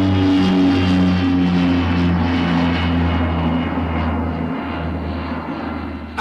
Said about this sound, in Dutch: kwam een Fokker Friendship van de luchtmacht demonstreren hoe makkelijk hij op één motor kan vliegen